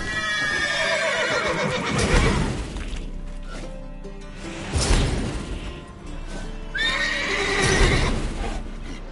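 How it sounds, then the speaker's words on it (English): Horses in a PS4 video game neigh and whinny loudly several times, with hoof clatter and crashing game sounds mixed in and no talk. "Gotta calm all the horses before they wake the guards."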